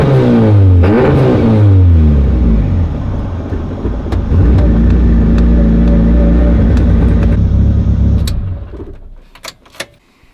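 A tuned car with a standalone engine management setup revs hard during a logged boost test pull, a loud close engine roar climbing in pitch and holding before cutting off abruptly, leaving a few faint clicks.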